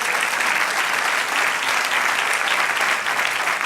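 Church congregation applauding together, a dense, steady wash of clapping that holds at full strength for the whole stretch with no voices over it.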